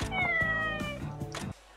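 A cat in the video game Like a Dragon: Ishin! meows several times in quick succession, loud and close, with drawn-out, wavering calls that end abruptly.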